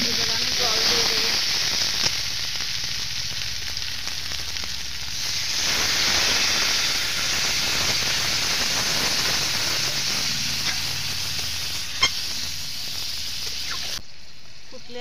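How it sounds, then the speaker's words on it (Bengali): Jackfruit curry (echorer kalia) sizzles and hisses steadily in a pan as water is added, a continuous close frying hiss with a faint voice underneath. "এবার আমি জল দিয়ে দেবো।"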